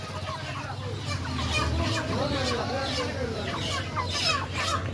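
Chickens cluck and squawk in a poultry market, a steady overlapping chorus of hens and fowl close by with busy background noise throughout.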